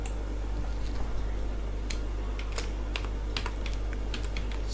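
Keys clatter on a computer keyboard while a single report name is entered in Microsoft Access, a steady stream of close, light clicks over a constant low hum, with no talking.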